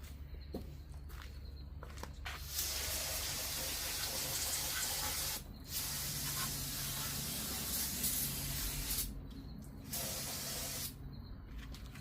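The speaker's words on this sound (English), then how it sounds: "let me spray this off with some brake cleaner real quick" An aerosol can of brake cleaner sprays in long hissing bursts on a 2012 Chevrolet Malibu's oil plug area, three sustained blasts separated by short pauses, loud and close.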